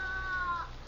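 A cat gives a single short, thin meow, faint over a low, muffled background hiss of old recording.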